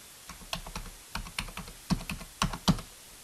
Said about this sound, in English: type in the telephone number or extension number in the text box